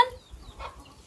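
Chickens clucking faintly at close range in a rural farmyard, a brief soft burst of hen calls over low background rumble.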